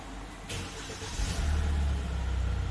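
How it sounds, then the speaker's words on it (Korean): A Kia All New Carnival engine starts up, a starter whir followed by the engine catching and settling into a loud, low steady idle close by. "지금 시동 한번 걸어볼게요"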